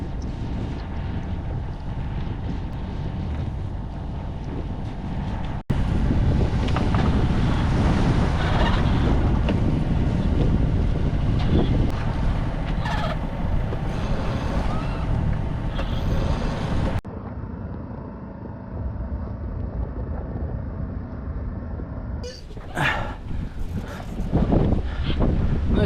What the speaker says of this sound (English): it's blowing up quite nicely out of the river